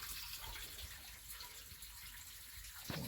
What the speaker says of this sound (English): You can hear it draining into the sump pump.